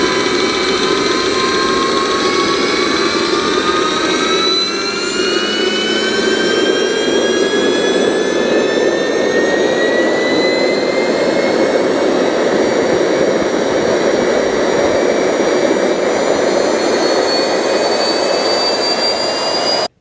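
A JetCat model turbojet engine runs steadily at close range for the whole stretch, a loud continuous roar with a high rising turbine whine layered on top.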